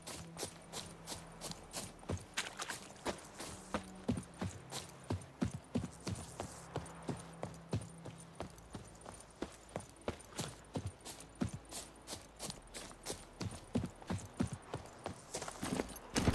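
Roach, a horse in The Witcher 3, gallops with a steady run of rhythmic clip-clop hoofbeats, close and clear over a low game backdrop, faint voices at the start.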